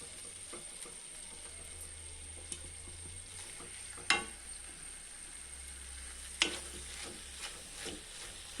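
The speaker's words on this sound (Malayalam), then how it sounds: "എന്നിട്ട് ഒരു സ്വല്പം നേരം കൂടി ഇതൊന്ന് ഇളക്കാം." Ladoo mixture with raisins is stirred in a pan, a soft low scraping and faint sizzle with a couple of sharp clinks of the spoon against the metal.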